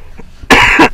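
A single loud, harsh cough close up, a short burst following a quiet moment.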